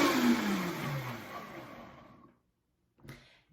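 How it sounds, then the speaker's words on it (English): Blender whirring through a green smoothie of greens and a little water, a loud dense roar that winds down and fades out, then a brief faint restart near the end. "So I'm just going to blend this."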